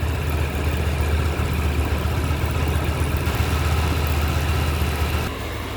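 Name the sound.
Honda Hornet 2.0 motorcycle engine idling during servicing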